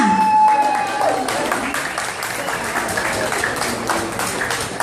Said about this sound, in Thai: ขอเสียงปรบมือดังๆอีกครั้งหนึ่งค่ะ